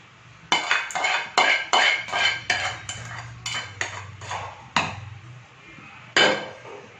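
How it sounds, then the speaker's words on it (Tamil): A metal spoon knocks repeatedly against a cooking pot as roasted cashews go into bisibela bath (sambar rice), a steady series of loud, close clanks, then a gap and one final clank. "இப்போ நம்ம வந்து இந்த முந்திரி இதெல்லாம் வறுத்துருக்கோம் இதே இதில் போட்டுடலாம்"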